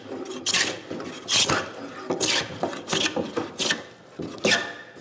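Hand plane taking shavings off the wood of a workbench, heard as about seven rhythmic rasping strokes close up, each a bright swish with brief pauses between.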